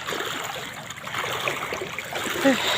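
Deep floodwater flows across a flooded road where a cyclist must push a bike through it, making a steady broad wash and trickle close by with a small splash near the end.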